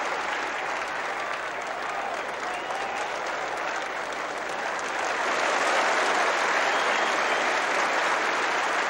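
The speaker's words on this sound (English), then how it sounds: "The applause for Redpath's throw from the deep and for the very good running by the New Zealanders" Cricket crowd at Lancaster Park, Christchurch, during a 1974 New Zealand versus Australia Test, applauding in a sustained spread of clapping that swells louder toward the end.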